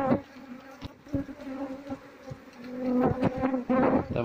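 Apis cerana honey bees buzz at a week-old nest in a house, a steady close drone of many wings that swells louder and busier toward the end.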